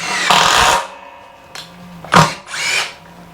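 A Metabo 36V triple hammer impact driver set to speed 2 drives screws in short bursts, loud and close, with brief gaps between runs.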